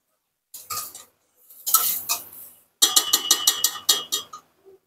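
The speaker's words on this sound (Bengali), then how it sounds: "এখন হচ্ছে আমি আলুটাকে কিছুক্ষণ কষাবো" Potatoes stir-fried with spices in a pan, giving bursts of scraping and clattering from a utensil against the pan, the last stretch a quick rhythmic series of stirring strokes, close and fairly loud with no talking.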